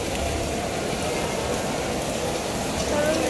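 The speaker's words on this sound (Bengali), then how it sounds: "আর বৃষ্টিটা খুব হচ্ছে" Heavy rain pours steadily outdoors in Kolkata, a dense, continuous hiss of drops on surfaces with a low rumble underneath, close and constant throughout with no talking.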